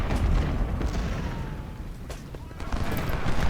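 Artillery and musket fire in the Civil War strategy game Ultimate General: Civil War, a continuous rumbling barrage of distant booms and crackling shots with a voice talking over it.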